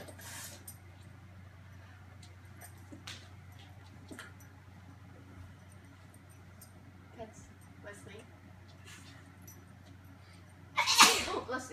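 A single sharp, fairly loud sneeze bursts out near the end, after a stretch of quiet room tone with faint, low voices in the background of a home with dogs and children.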